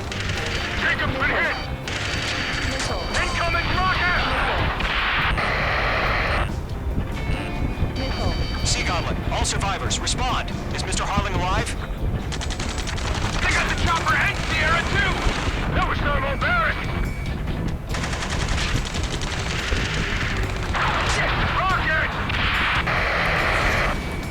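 Missiles launch and explode amid rattling gunfire and jet roar in the air-combat game Ace Combat 7, a dense, loud barrage running throughout with radio voices talking over it.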